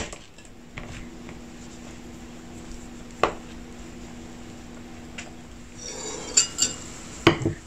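Cooked tarte Tatin filling is scraped into a metal tray, with faint clinks and a sharp metallic knock early on, then a cluster of louder utensil scrapes and taps on metal near the end, in a quiet kitchen.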